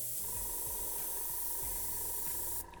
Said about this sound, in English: Excuse the noise of the airbrush.